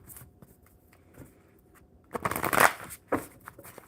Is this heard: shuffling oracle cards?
yes